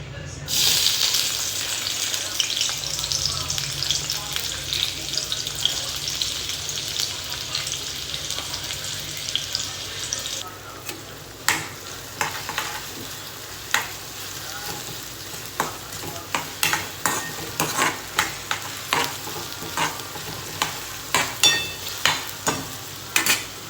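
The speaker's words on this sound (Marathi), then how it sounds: "तर कांदा चांगला भाजून घ्यायचा थोडा मऊपर्यंत मऊ पडूपर्यंत" Onions fry in hot oil in a kadhai, a loud continuous sizzle at first that gives way to repeated scraping stirs and clinks of a spoon against the pan, close up with no voices.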